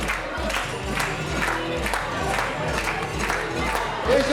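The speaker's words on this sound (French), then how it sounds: "On applaudit bien fort les deux équipes qui viennent de finaliser ce match" A theatre audience cheers and applauds the two improv teams after the final match of a national improv championship, a loud, sustained roar of crowd noise with a rhythmic pulse running through it.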